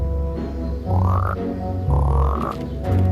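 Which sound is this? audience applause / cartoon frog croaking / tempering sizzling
cartoon frog croaking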